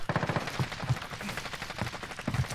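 An ACR rifle in Call of Duty Modern Warfare fires in quick repeated bursts of close, punchy shots, a fast rhythmic rattle broken by brief pauses.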